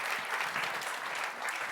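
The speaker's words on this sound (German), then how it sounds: "Ein Applaus bitte." A live audience applauds a guest arriving on stage at a talk event, with dense, even clapping from many hands that holds steady for the whole short stretch with no voices heard above it.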